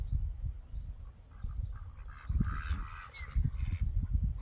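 Ducks and geese in a duck pen honk and call in a steady, nearby chorus with irregular bursts of overlapping cries.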